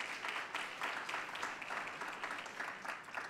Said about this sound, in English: Round of applause for Kio,